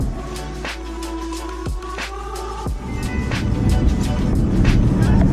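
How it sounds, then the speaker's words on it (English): A 2014 Aston Martin V8 Vantage coupe's exhaust note, heard from the car while driving: a steady low engine drone, broken by a few quick gear-change dips, then rising louder and fuller as it pulls. "you hear the exhaust note"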